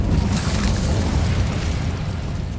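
An Incendio fire spell bursting in Hogwarts Legacy, a dense low roaring whoosh that is loud at once and fades slightly over a couple of seconds, with no one speaking.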